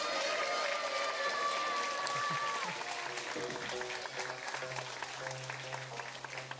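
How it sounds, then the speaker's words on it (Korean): An audience at a constellation-themed concert applauds the geomungo student performers, sustained crowd clapping heard at a moderate distance while a few voices and faint tones sound beneath it. "너무 멋지게 연주해준 검은고 학생 연주자분들께 다시 한 번 박수 부탁드립니다"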